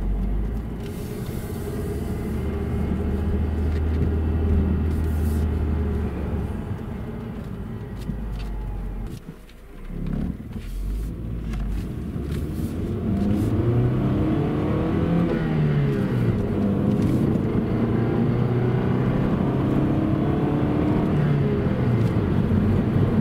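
A 1998 Honda Accord with a manual transmission drives along, its engine droning steadily and rising as it revs, with a brief dip near the middle as it shifts gears, then climbing again; no one speaks.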